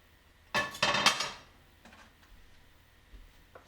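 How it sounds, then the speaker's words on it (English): Sesame seeds are ground by hand for a Japanese-style dressing, giving a short cluster of close, clattering scrapes followed by faint, sparse taps and near-quiet. "So I'm just grinding this right now."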